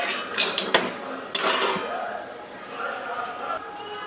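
Spoon clinking and scraping against a bowl while fruit is stirred with sugar and milk for a vanilla custard fruit salad, a few sharp close taps early on, then softer scraping that fades.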